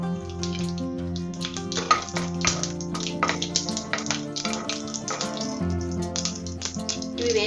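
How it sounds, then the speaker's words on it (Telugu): Mustard seeds, cumin, cinnamon, cloves and shahi jeera sizzle and pop in hot oil, a dense crackling of sharp ticks over a steady hiss. "ఆయిల్ వేడెక్కాక ఆవాలు, జీలకర్ర, దాల్చిన చెక్క, లవంగాలు, షాజీరా వేసి వేయించుకోవాలి."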